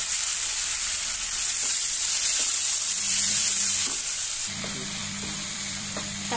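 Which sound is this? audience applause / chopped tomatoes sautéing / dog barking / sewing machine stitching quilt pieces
chopped tomatoes sautéing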